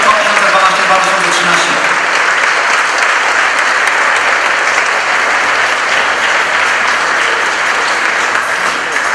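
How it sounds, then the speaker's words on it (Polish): Loud, dense applause fills a football awards gala hall honouring the Polish champions and the league's top scorer, a steady crowd ovation sustained throughout without a break. "Wielkie brawa!"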